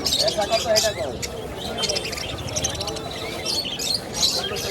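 Many small birds chirp and tweet busily all at once at a bird market, a dense chorus close by, with someone talking over it.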